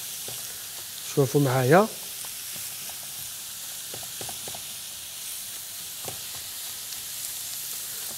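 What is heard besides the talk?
minced meat frying with onion in a pan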